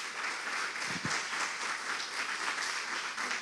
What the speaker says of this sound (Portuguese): Vamos aplaudir o nosso Deus. Bem forte, gente.